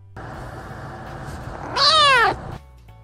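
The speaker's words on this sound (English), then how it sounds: "Each of their meow has a different meaning." A cat lets out a loud, clear meow, a single drawn-out call rising then falling, over steady background hum.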